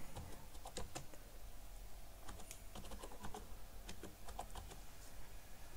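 Fingers tap out text on a computer keyboard while working in Photoshop, a soft, fairly quiet run of irregular key clicks against steady background hiss.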